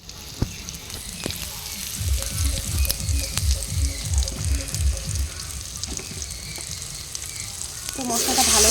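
Ground spice paste fries for chicken in a pan on a rooftop clay stove, sizzling steadily close by, with a low muffled voice in the middle and the hiss swelling louder at the end.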